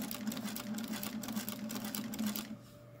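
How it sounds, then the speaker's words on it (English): A Singer Featherweight sewing machine fitted with a walking foot runs a quilting seam, its needle chattering in a fast, steady mechanical rhythm under a low motor hum before stopping abruptly near the end. "I just quilt along that seam"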